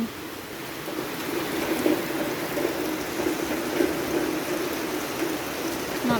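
Steady heavy rainfall during a storm, a constant dense hiss of drops hitting surfaces, no voices, continuing evenly throughout.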